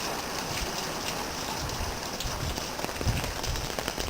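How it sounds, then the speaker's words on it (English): Heavy rain pouring down outside a house, a dense, steady hiss of drops hitting surfaces with occasional splattering thumps. "this is pretty heavy rain for heavier than what we're used to be getting"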